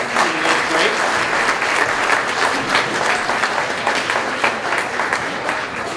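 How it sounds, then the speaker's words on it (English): Sustained audience applause at an awards celebration held by a chamber of commerce, many hands clapping densely and steadily throughout, with faint crowd murmur underneath. "One more round of applause for the Nate Terrian Trio."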